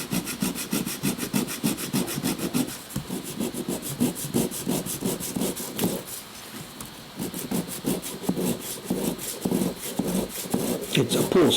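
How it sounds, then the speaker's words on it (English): A Japanese pull saw cuts through a wooden dowel sticking up from a board, a steady run of rhythmic rasping strokes, close and continuous, with a brief pause midway before the sawing resumes. "It's a pull saw, of course. This is Japan. It's not a push saw."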